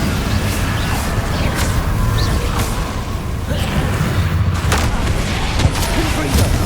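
An Incendio fire spell is cast in Hogwarts Legacy, a roaring, whooshing burst of flame inside a loud, continuous wash of game combat noise with scattered booms.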